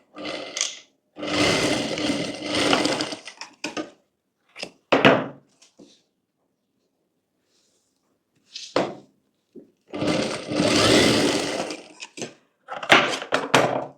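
A sewing machine stitching a bridal embroidered blouse runs in loud bursts of a few seconds each, separated by short pauses and brief clicks of handling.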